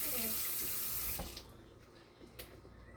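Tap water pours hard into a jar and is then shut off, leaving quieter dripping and small clinks in a kitchen during pot roast preparation.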